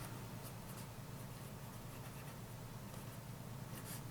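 A feather dip pen with a poor-quality nib scratching across paper in a steady, continuous stroke, close and quiet, with no voices present.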